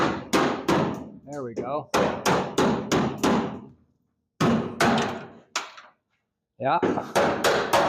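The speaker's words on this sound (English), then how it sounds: "I'm just gonna get a hammer and I'm just gonna tap the bolts through" Sharp metal hammer blows tapping bolts through a 1947 Ford COE truck chassis, several quick bursts of ringing strikes with pauses between, close and loud, with a brief spoken remark.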